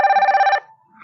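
A smart watch rings with an incoming phone call, a steady electronic ringtone pulsing loudly for about half a second before cutting off into near silence.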